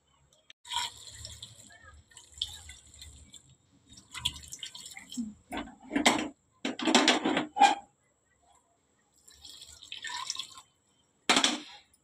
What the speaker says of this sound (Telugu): నీళ్ళు అయితే వేసుకునేసినాము.